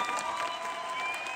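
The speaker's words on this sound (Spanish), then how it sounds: "se merecen un fuerte aplauso" A theater audience applauds the artists on stage after a show, a brief, steady spread of clapping with faint crowd murmur and a thin tonal hum running underneath.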